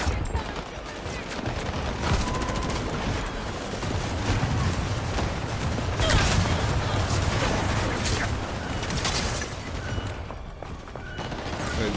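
Sustained automatic gunfire and bursts of shooting from a team battle in the video game Highguard, loud and continuous across the whole stretch with dense overlapping shots and game effects.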